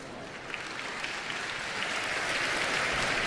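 Sustained applause from an assembly at a Jain temple consecration ceremony in Songadh, a dense, even wash of clapping that swells slightly louder toward the end.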